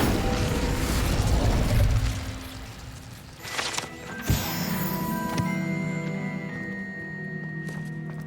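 An Incendio fire spell cast in Hogwarts Legacy gives a loud burst and whoosh, followed by sharp impact pops and crackling magical effects with lingering tonal shimmer.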